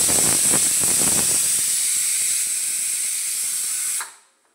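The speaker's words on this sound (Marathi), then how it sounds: "कुकरच्या पण शिट्ट्या होतात," A pressure cooker whistle releases steam in a home kitchen, a loud sustained hiss with some sputtering early on that holds steady for about four seconds, then cuts off abruptly into quiet.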